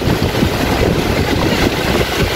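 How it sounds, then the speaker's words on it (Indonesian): Strong wind buffets the microphone on Teluk Penyu beach in Cilacap, a loud continuous roar and rumble with surf mixed in, steady throughout with no speech. "Anginnya kenceng banget."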